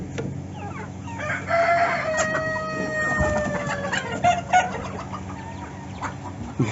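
Backyard chickens being fed hydroponic fodder cluck busily while a rooster crows in a long, loud call; the flock sounds close and continuous, with no talking.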